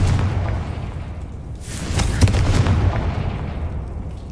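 A Confringo blasting spell explodes in Hogwarts Legacy, a loud, dense burst that swells with crackling debris and a deep rumbling tail, steady and close throughout.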